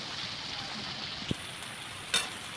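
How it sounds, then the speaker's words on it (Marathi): Onion and garlic paste sautéing in ghee, a soft continuous sizzle with two brief clinks of a spoon against the pan, close and quiet, no talking. "कांदा लसूणची पेस्ट ते घालते आणि तुपामध्ये परतून घ्यायचं"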